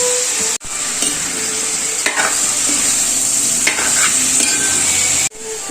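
Chicken pieces sizzle loudly in a pan with sautéed tomatoes while a spoon stirs and scrapes steadily, the frying hiss continuous and close, briefly cutting out twice.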